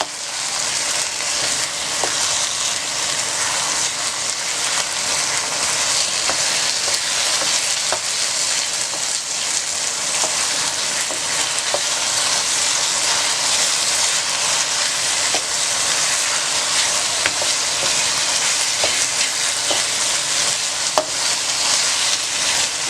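Andy turai sabzi, dhaba style, sizzles and fries steadily in a pan over full heat while being gently stirred, a continuous dense crackle that stays even throughout with occasional faint scraping ticks.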